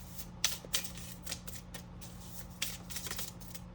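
Tarot cards being shuffled by hand in a quiet room, a few crisp riffling bursts and soft slides of card on card at close range, with no voices.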